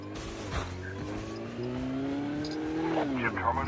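A motorcycle engine in Call of Duty Mobile battle royale revs steadily, its droning tone climbing and dipping in pitch at close range, with game effects in the background.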